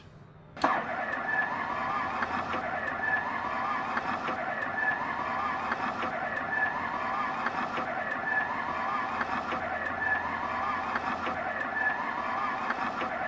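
An aircraft engine in a flight simulator game cranks into life with a sudden start, then settles into a steady, loud, droning run with a faint repeating pulse, and no voices over it.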